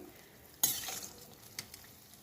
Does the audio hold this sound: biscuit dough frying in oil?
yes